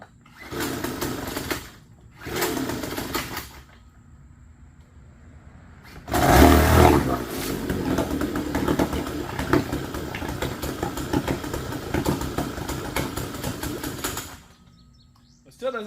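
A small motor, just adjusted on the choke, struggles to idle: two short buzzy bursts with a brief gap, a pause, then a loud catch and eight seconds of close, steady but ragged running before it drops away.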